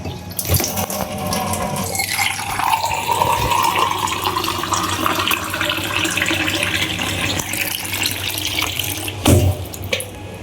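Water runs steadily from a household tap into a sink, a continuous splashing hiss lasting about ten seconds, with a brief clunk or bump near the end.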